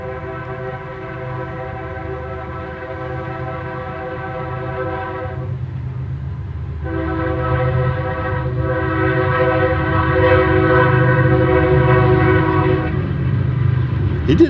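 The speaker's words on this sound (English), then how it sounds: "Here comes another train." A passing train blares its horn in long, loud chords, broken by a short gap and a brief pause, over the steady rumble of rolling wheels close by.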